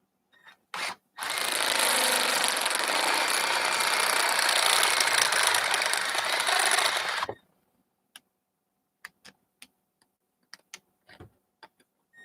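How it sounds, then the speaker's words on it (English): A power drill bores out a stuck part in a home workshop during a brake job, running loud and steady for about six seconds after a short start. Scattered clicks and light taps follow in near silence. "So I guess we're going to have to drill this out."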